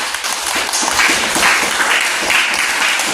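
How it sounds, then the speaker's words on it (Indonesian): A classroom audience gives sustained applause, a dense, even burst of clapping that carries on loudly for about three seconds. "berikan aplaus dulu kepada Reja."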